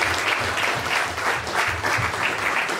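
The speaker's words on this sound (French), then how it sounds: "On applaudit Seigneur" A church congregation claps together during a service, a loud continuous wash of applause with a slight rhythmic pulse, steady for the few seconds heard and without talk over it.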